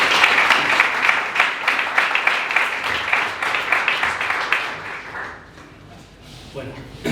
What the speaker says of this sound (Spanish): Un aplauso para José Ángel.